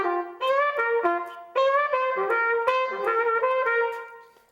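A trumpet plays short phrases with notes scooped up from below pitch before settling, bright and close, several notes in quick succession with brief gaps and no talk.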